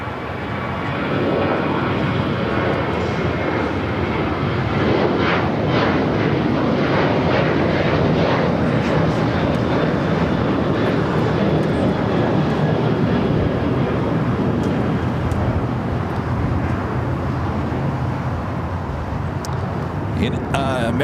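An American airliner takes off from runway 25 right at LAX with a steady, loud, broadband jet-engine roar that holds for the whole stretch, and a voice is faintly present beneath it.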